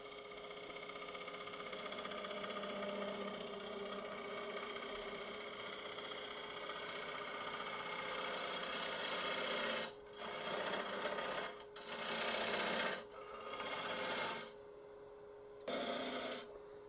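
Koa wood bowl being hollowed on a lathe with a turning tool: a steady, dense motor whine and scraping cut runs continuously, then breaks into several short pauses and restarts toward the end.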